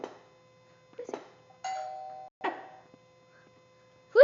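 A doorbell chimes several times in a quiet home, each ring a clear sustained tone with gaps between, the last one close and loud.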